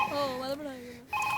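A telephone rings indoors, with tonal ringing bursts at the start and end and a voice speaking over the middle.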